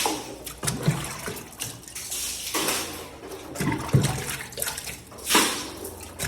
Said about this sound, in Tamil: இந்த பாருங்கள் எவ்வளோ தண்ணி எடுத்து வெளியே வீசிக்கிட்டே இருக்கிறேன்.